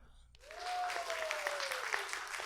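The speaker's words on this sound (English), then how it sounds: "Can you help me give a big round of applause to ourselves?" A small group applauds at the close of a show, clapping starting abruptly and continuing steadily, with a sliding tone ringing through the first part.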